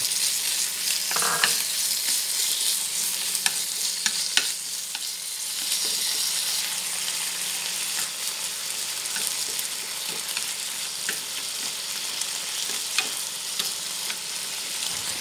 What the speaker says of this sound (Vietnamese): Cho thịt đã ướp vào xào trước cho chín.